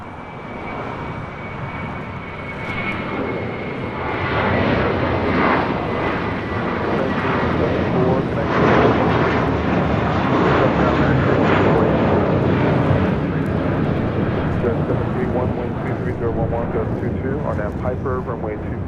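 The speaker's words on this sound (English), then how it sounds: "Next takeoff here on the south side is American Airlines flight 1994 heading to Phoenix, Arizona in an A321" An American Airlines A321 takes off at LAX, a broad sustained jet roar that builds and holds throughout, with someone talking over it.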